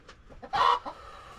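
A brooding hen in a small hillside tribal village gives a short, sharp cluck as she is startled off her eggs, with a few faint softer clucks just before it.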